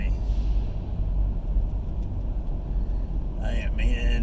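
Dense morning traffic on Interstate 75 northbound through Atlanta's south side, heard as a steady low road rumble from inside a vehicle, with a brief higher tonal swell near the end.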